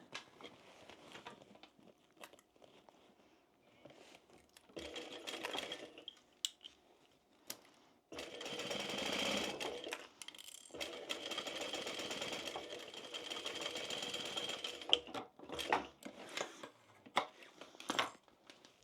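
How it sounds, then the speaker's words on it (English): A sewing machine basting around the edge of a fabric tote bag, running in sustained whirring bursts of a few seconds, the longest in the middle, with softer handling clicks and rustles between them, close up and without talking. "So I'll just baste around there"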